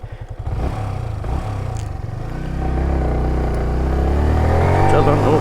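A motorcycle at full throttle in second gear climbs a steep, high road in Bangladesh, its engine a loud, steady drone rising slowly in pitch while the rider talks over it.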